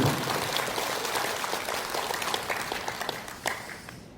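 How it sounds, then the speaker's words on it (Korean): An audience at a political talk concert in Korea gives moderate, steady applause with occasional sharper claps, thinning toward the end. "박수를 드리는데"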